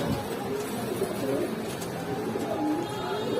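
Rajshahi Giribaz pigeons cooing at a pigeon seller's stall, soft repeated low coos running steadily through the clip alongside background murmur and bird noise.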